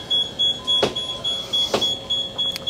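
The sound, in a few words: motorised boat garage door opening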